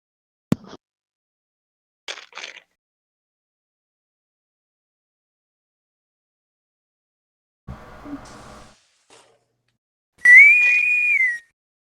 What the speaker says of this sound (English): Who's whistling at me again?